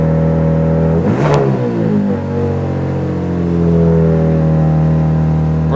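A 2026 Ram RHO truck with a new exhaust revs up once in a loud, close burst, then settles back into a deep, steady idle rumble.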